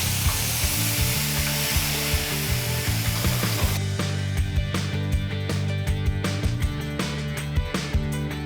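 Steady crackling sizzle of onion paste frying in hot oil with cumin, asafoetida and bay leaf, with clinks and scrapes of a utensil against the pan throughout.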